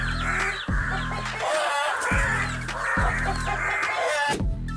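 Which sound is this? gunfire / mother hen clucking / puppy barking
mother hen clucking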